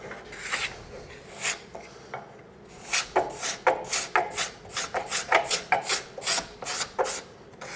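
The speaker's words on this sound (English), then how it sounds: "here's where you can use a card scraper" A card scraper is drawn repeatedly across a wooden surface, a series of close, rasping strokes that speed up into a quick, fairly regular rhythm, with no voices.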